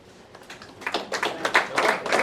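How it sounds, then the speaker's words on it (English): Applause rises from a comedy show crowd at a VFW post, starting thin and building into steady, moderately loud clapping over a couple of seconds. "let's hear it by applause if you're over 45"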